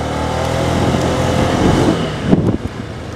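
Honda Giorno+ 125cc four-valve scooter engine pulling hard under acceleration on a test ride, a steady close motor drone that swells toward the end, with no talk over it.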